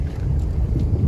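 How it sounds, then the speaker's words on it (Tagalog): Strong wind buffets the microphone with a constant low roar and rumble, loud and steady throughout. "Malakas nga yung hangin dito"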